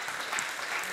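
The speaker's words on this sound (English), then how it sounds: "By round of applause." A conference audience at a startup pitch event gives brief applause, dense and steady clapping from a crowd in a hall, heard without talk.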